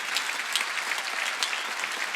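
A church congregation claps during a Sunday worship gathering, a continuous, lively patter of many hands heard fairly close and without speech on top.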